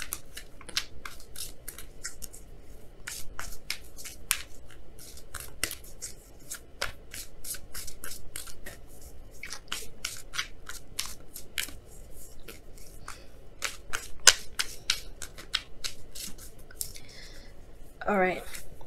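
Oracle cards are shuffled and handled at close range, giving a long run of crisp, rapid papery flicks and snaps with brief pauses between bursts, plus a soft rustle near the end.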